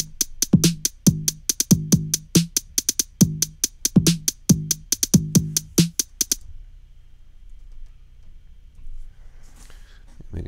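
Programmed trap drum pattern with hi-hats built in FL Studio: sharp, crisp hi-hat ticks in a fast regular rhythm over punchy kick and snare hits, playing loud and clean for about six seconds before stopping into near silence.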